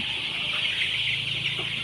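Young Sonali chicks cluck and peep softly as they run about a crowded shed beside older birds, their calls blending into a steady, constant background hiss.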